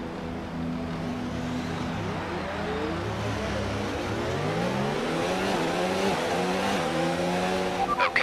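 F1 race car engine in F1 2019, a loud high-pitched whine with rising and falling revs, the pitch sweeping up steadily as the car accelerates close by.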